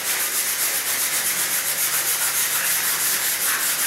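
WD-40 softens black tar mastic on a floor as it is scrubbed by hand, giving a continuous close, even rubbing hiss with a gentle back-and-forth pulse throughout.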